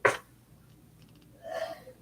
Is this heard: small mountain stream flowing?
no